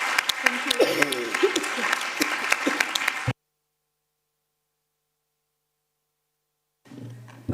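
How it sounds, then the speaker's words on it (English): Audience applause at an academic conference on ending gender-based violence, a few seconds of clapping with some voices mixed in, then abrupt silence before faint room sound returns. "just big round of applause for everybody"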